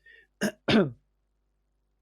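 Two short, sharp coughs close up, like clearing a throat, then quiet with a faint blip at the end.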